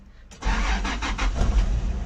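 A car engine with morning starting trouble cranks and catches at last, a sharp onset followed by a loud, steady rumbling run with faint pulsing bursts near the start.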